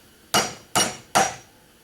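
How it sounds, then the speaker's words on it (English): Three sharp metallic hammer strikes on a hole punch set on a block of wood, evenly spaced about half a second apart, close and clear. "put it on a block of wood, line up your hole, smack it with a hammer"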